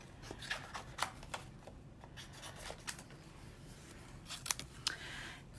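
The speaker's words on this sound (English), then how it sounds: "I'm going to cut out with my scissors these 2 little green leaves real quick." Scissors snip out two small green paper leaves for a card-stamping craft, giving a series of quick, light crisp cuts at irregular intervals over a soft background hiss, close by.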